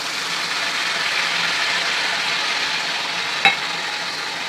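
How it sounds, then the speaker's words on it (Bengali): Ginger, garlic and green chilli paste fries in a pan with a steady, even sizzle throughout, broken once near the end by a single sharp clink. "হ্যাঁ এটা বেশ খানিকক্ষণ কষাতে হবে"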